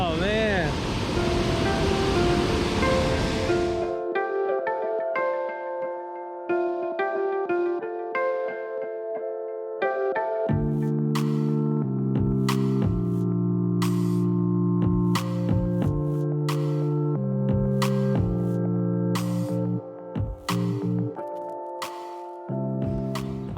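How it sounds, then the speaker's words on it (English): Fast-flowing stream water near waterfalls in the Finger Lakes region of New York rushes loudly and close for a few seconds, then cuts abruptly to sustained musical tones. "I'm finally up and out of that fast water."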